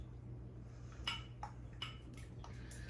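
A utensil clinks and taps against a bowl several times in quick, irregular strokes while egg wash is whisked for a loaf of bread, quiet and close with a low steady hum underneath.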